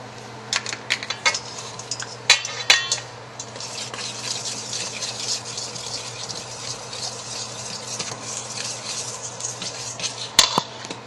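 Ingredients for sweet and sour pork being stirred together with about half a cup of flour in a bowl, a continuous soft scraping with a few sharper clinks of a utensil against the bowl, close up and with no speech.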